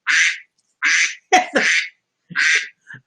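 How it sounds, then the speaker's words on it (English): A duck quacks in four or five separate, raspy calls spaced about half a second apart, close and alone against a silent background. "I think the duck objects to this happening."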